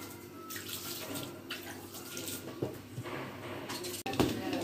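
Water runs and splashes into a cooking pot in a home kitchen, a steady close pour with no speech, building slightly louder near the end.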